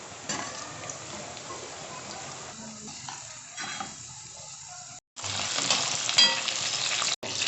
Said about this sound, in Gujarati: ગાજર તળાઈ ગયા અને કેપ્સિકમ તળાઈ ગયા